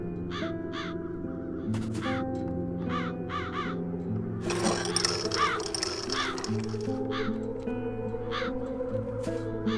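Crows in The Dark Eye: Chains of Satinav video game caw repeatedly in short bursts of two or three calls over a soft ambient music bed, fairly close and clear, with a brief louder rustling noise midway.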